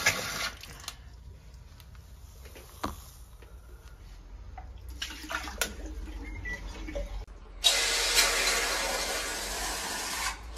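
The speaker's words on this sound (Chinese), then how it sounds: "听这个水流的声音，这个压力足够。" Water rushes loudly and steadily out of an opened angle valve after a clogged filter screen is removed, following scattered clicks and handling noises.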